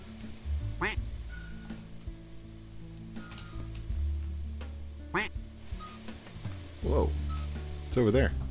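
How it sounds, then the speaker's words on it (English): A duck quacks several times in the Roblox game Lumber Tycoon 2, its short nasal calls spaced a few seconds apart, clearly above a low humming game backdrop with some talking. "Quacking."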